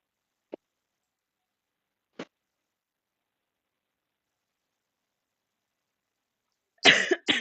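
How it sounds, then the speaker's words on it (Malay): A person coughing with a mild cough, two small isolated coughs spaced apart in near silence, then a louder burst of coughing close by at the end. "batuk sikit hari ni"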